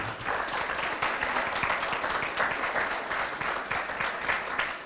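Hall of fame ceremony audience giving a sustained round of applause for athletic inductees, steady dense clapping filling the hall at moderate distance with no talk over it.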